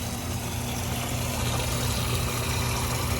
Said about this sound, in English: Pump kicked on.